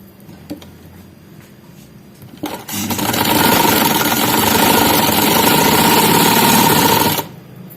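A sewing machine runs in one steady, loud burst of several seconds while stitching the side pocket of a kameez, with a few quiet clicks of handling beforehand.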